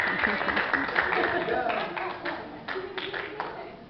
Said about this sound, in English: Can we give her a hand clap?